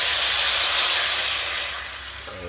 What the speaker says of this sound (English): We're gonna add our coconut to the frying pan.